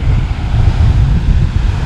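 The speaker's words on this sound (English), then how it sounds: "Now there is a pretty good splash going on here." Ocean waves surge and splash at a natural bridge on Aruba's coast, a loud low rushing roar with strong wind buffeting the microphone throughout.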